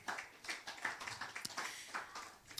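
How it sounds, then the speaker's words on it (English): Audience applause at a family wealth conference in Nigeria, a brief spell of fairly faint clapping with uneven bursts of hand claps, somewhat distant in the room. "I think that we deserve another round of applause for ourselves"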